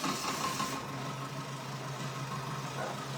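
An All Cook food processor runs at speed 7, finely grating carrot, a steady low motor hum with a faint whine that holds evenly after a brief louder start, with no talking.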